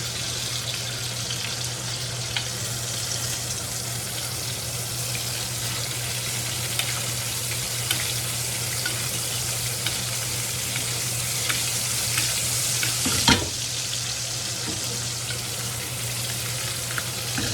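Onions charring and quail being basted in a pan over raised heat: a loud, steady, crackling sizzle close up, with a brief stir or clatter near the end.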